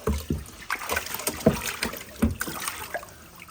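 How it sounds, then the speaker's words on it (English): Water pours and splashes over a pond filter spillway as it is rinsed, coming in uneven sloshing bursts close by. "I am gonna clean this spillway though real quick with the same water."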